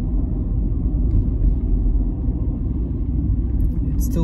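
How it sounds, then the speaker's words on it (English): Steady low traffic rumble from cars pulling up and idling at the OR Tambo Airport drop-off and pick-up lane, continuous and fairly loud throughout with a brief higher clatter near the end. "here are some cars of people being dropped off or being picked up."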